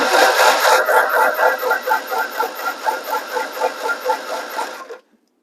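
Starter cranking the engine of a 1962 MG Midget with cap, wires and spark checker fitted and no plugs in, a loud rhythmic chugging whir for about five seconds that stops abruptly without the engine catching.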